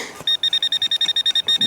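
A rapid series of sharp, high electronic beeps from a metal detector pulses close up in a quick, regular rhythm, in woods in New Hampshire.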